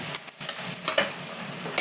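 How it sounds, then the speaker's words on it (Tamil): Vegetables with salt being stirred in a cooking pot, a steady scraping and clinking texture with soft sizzling, close and continuous with no voices. "நல்லா கலந்து விட்டுக்கலாங்க."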